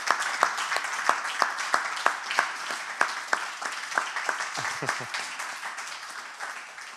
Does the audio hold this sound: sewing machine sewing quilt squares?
no